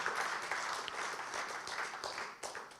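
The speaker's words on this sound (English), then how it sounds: "maybe we could give him an applause" An audience claps together at a conference session on women ending fossil fuels, a soft, steady patter of many hands heard from a distance.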